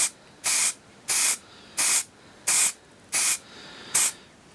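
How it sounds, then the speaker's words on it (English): Six short bursts of aerosol spray hiss in a steady rhythm, each about half a second long with quiet gaps between, close and loud. "give them a spray like that there"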